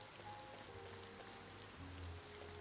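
Rain falls steadily in the video game Ova Magica, a soft, even hiss of drops with a faint low hum beneath, quiet and unbroken with no voices.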